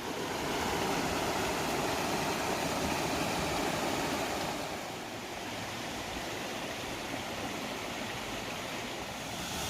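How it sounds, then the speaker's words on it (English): A mountain creek runs over near-constant waterfalls along a gorge section of the Mountains-to-Sea Trail near Black Mountain, producing a loud, steady roar of rushing water that eases slightly partway through. "I'm walking along this creek, I'm kind of following it up at this point, and so it's pretty near constant waterfalls"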